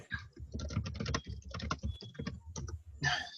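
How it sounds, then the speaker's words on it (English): Rapid, busy typing on a computer keyboard, dense clattering keystrokes close by with brief pauses, no voices. "Someone's doing a crap ton of typing."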